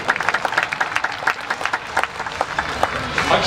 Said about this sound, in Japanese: 拍手鳴りやみません。